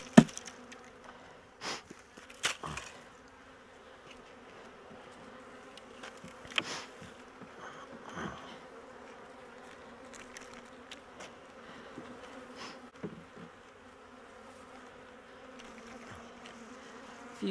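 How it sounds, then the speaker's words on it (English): Bees are shaken out of a container into a hive box, giving a soft, continuous buzzing hum with a few sharp knocks and taps scattered through it, heard close and fairly quiet with no voices. "So I'm just gonna shake these bees out, what's left in here, into this box."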